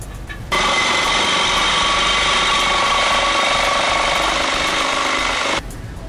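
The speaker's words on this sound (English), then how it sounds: "we're going to cut the factory pipe off at that mark" A power saw cuts through the factory exhaust pipe of a 2009-2010 Dodge Challenger SE, starting abruptly with a loud, steady whining grind and stopping sharply after about five seconds.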